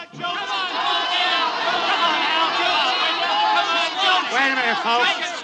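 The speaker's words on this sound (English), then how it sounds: "a nightclub in Hollywood, the crowd yelling" A nightclub crowd in Hollywood yells and cheers in a dense, continuous roar of many voices, loud and sustained throughout.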